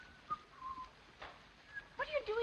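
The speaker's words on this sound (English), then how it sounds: "Oh, do stop whistling." A man whistles a few short, thin, wavering notes, quiet and close, with a livelier burst of tones near the end.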